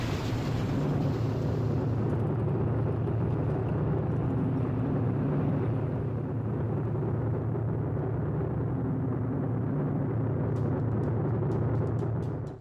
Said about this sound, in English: the ground crew would step back, and the pilot could start the engines